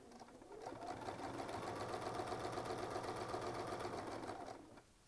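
A sewing machine stitches free-motion quilting in a rapid, even run of needle strikes, rising in at the start and stopping near the end, fairly quiet with no speech.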